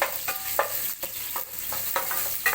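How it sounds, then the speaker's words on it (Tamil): A single onion sauteing in a pan with curry leaves, turmeric and chilli, a steady sizzle broken by repeated scraping stirs at a loose rhythm, close and moderately loud with no talking. "ஆனியன் போட்டுக்கலாம் ஒரே ஒரு ஆனியன் அவ்வளோதான் கொஞ்சம் கொஞ்சம் வதங்க வச்சு"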